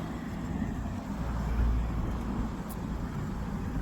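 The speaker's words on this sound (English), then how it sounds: "I apologize for the street traffic." Street traffic outside a restaurant forms a steady broadband roar with a low rumbling swell in the middle, continuous and fairly close, with no clear talking.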